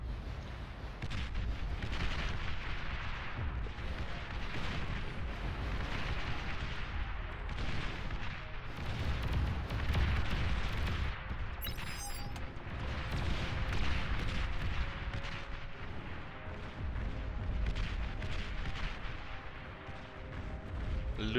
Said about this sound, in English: Even more artillery for the Finns.